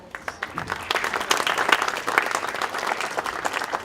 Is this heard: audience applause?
yes